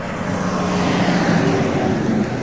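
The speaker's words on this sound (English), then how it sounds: "Sorry about the truck noise." A truck passes on a road in the desert near Hoover Dam, a steady, loud low rumble of engine and tyre noise that holds for the whole stretch with no voices.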